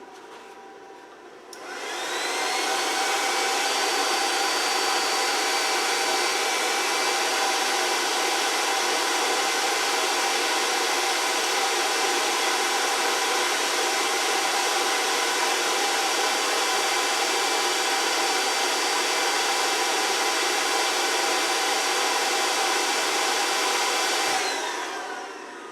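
A KKSEVENS induction heater runs with its cooling fan, giving a loud, steady whirring hum that starts abruptly, holds constant for over twenty seconds with no voices, then cuts off.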